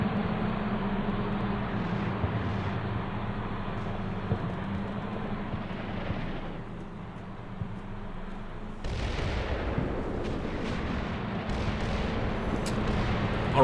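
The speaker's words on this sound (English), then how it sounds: "looks like we got some mortars coming in on our position" Mortar rounds and vehicle fire in the video game Combat Mission Shock Force 2 form a continuous low rumble with scattered dull blasts, then a sharper, brighter burst of noise that carries on to the end.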